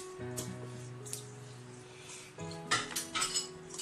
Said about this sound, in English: let's give it a stir again